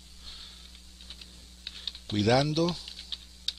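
Soft keyboard clicks from typing a project title on a computer, scattered in short bursts before and after a brief spoken word in Spanish over a steady low hum.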